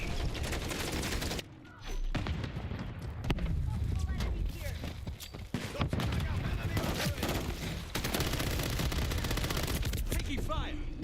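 Dense gunfire in an XDefiant multiplayer match, overlapping automatic bursts and rattling shots filling the whole stretch, loud and chaotic with game effects and voices mixed in.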